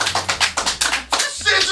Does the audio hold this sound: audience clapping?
yes